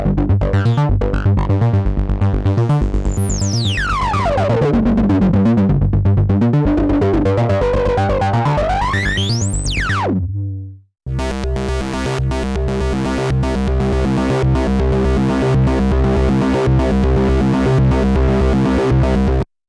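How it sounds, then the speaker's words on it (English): A Korg Monologue, a one-voice, two-oscillator bass-focused synthesizer, plays a loud, buzzy line with rising and falling filter sweeps. After a brief cut it continues with a steadier, pulsing pattern. "it's a one-voice, two-oscillator bass-focused synthesizer"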